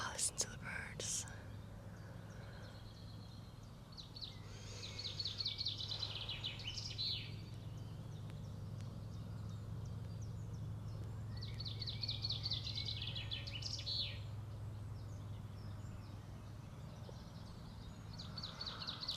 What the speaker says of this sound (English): Oh, listen to the birds.